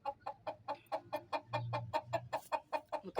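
A hen clucks in a steady, rhythmic series of short, close calls, about four per second, with a brief low murmur in the background midway.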